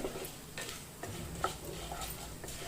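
Urad dal, chana dal, coriander seeds and fenugreek being stirred as they fry in a pan for a cucumber chutney, with soft scraping and light sizzling in a few spaced strokes, close by and fairly quiet.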